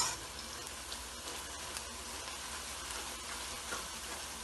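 Chopped onions frying in a small amount of oil for beef paya, a steady close sizzle with a soft crackle that holds at an even level and no talking.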